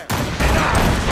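Ship cannons firing during a naval battle in Assassin's Creed Rogue, a loud booming barrage rolling continuously with thick low rumble, no speech over it.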